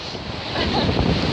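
Sea waves washing onto a Baltic-style shore during a barefoot paddle, a steady broadband surf roar with wind buffeting the microphone, growing slightly louder toward the end, no voices.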